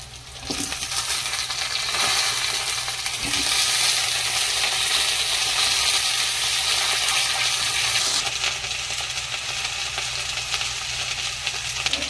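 Potatoes dropped into a pan of frying eggplant (brinjal), hot oil sizzling loudly and continuously for several seconds with a few clinks and stirring noises, close up and with no talk.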